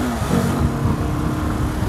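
A Daytona Xpower 250 motorcycle engine hums steadily during a test drive, a close, rough, continuous drone with slight fluctuations in pitch.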